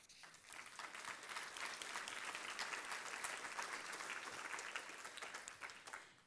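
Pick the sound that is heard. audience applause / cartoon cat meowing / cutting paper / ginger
audience applause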